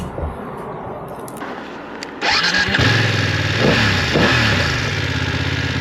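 A 2023 BMW F 900 XR motorcycle engine cranks and starts after a quiet opening, then settles into a loud, close, steady idle with slight rises in revs.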